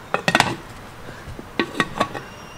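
Metal clattering of a lid being fitted onto a pressure cooker holding halved potatoes covered in water, a quick cluster of close knocks followed by a second burst of clinks.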